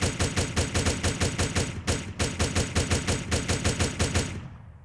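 Automatic gunfire in the video game Proletarian Budget Survival hammers out in a fast, steady rhythm of loud, close shots. A brief break comes midway, then the bursts resume and fade out at the end.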